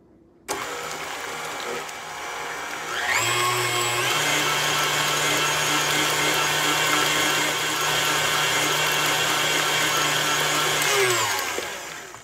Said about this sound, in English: Now we will blend in between each ingredient.